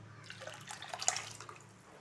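Matki cooking water pours into a pot for a Malvani-style matki usal, a close, splashing liquid trickle with scattered drips that swells to a brief peak and then tapers off.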